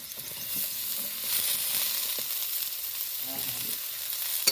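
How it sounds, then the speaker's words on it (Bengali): Steady, close sizzling of food frying in a pan, a constant hiss with occasional soft stirring scrapes, no voices. "আলুটাও ভাজা হয়ে যাবে আর মশলাটাও কষানো হয়ে যাবে"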